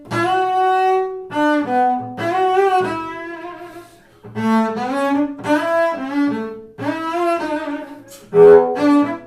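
A double bass playing an R&B-style section with frequent slides, phrased in short bursts of notes with pitch glides between them and brief pauses, close and clear with no talking.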